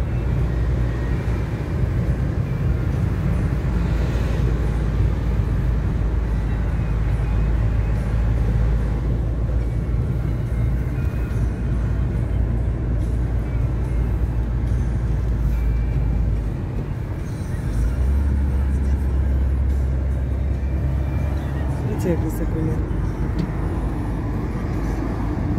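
A car climbing a high mountain road above Lake Como, heard from inside as a steady low engine drone and road rumble, continuous and fairly loud throughout with no talking.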